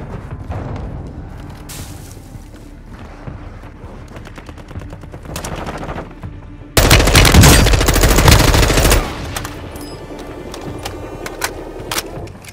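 Automatic gunfire in Warzone 2.0, with steady bursts of game shooting throughout and a much louder, denser stretch of close fire near the middle before it eases back to lighter shots.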